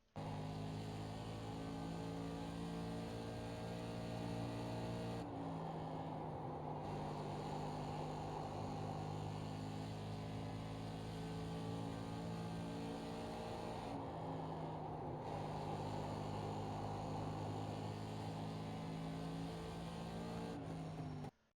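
SK Modified race car engine in the iRacing sim at Kern County, heard from inside the car over a full lap: a steady loud drone with shifting pitch and brief dips where the driver lifts into corners.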